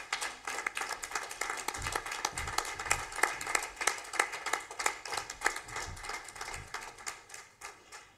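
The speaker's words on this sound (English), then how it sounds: "A big round of applause for her." An audience in a conference hall at ICRPAIN 2025 claps for a quiz prize winner, with crisp, distinct hand claps that pulse unevenly and stay fairly close and moderately loud throughout.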